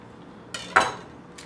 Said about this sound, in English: I'm going to cut out this little pit.